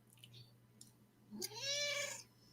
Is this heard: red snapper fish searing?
no